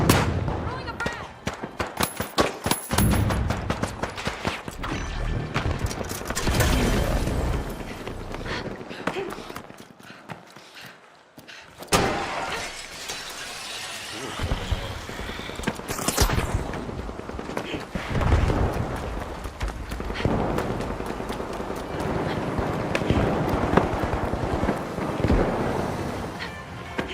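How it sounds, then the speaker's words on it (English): Explosions and heavy gunfire from a flashbang and frag grenade thrown in the video game The Finals, with loud blasts and rapid shooting over about half a minute, and voices talking now and then. "Throwing a flashbang! Throwing a frag!"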